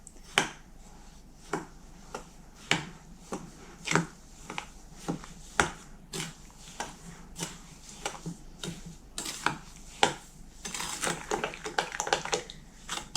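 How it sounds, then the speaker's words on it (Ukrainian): Sugar being stirred into crushed raspberries for jam, heard as a series of sharp spoon taps and scrapes against the bowl at an uneven rhythm, close and moderately loud, growing busier and denser toward the end. "Тепер з'єднаю цукор та малину. Вже перетерту. Але так, поступово буду змішувати."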